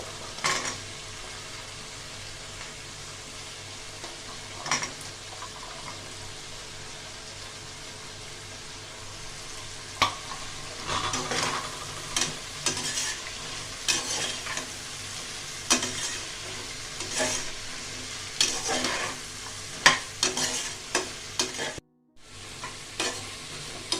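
Vegetables such as carrot, green chili and beans are stirred in a pot for one-pot sambar, with steady sizzling under repeated scraping strokes of a spoon against the pot, close and continuous.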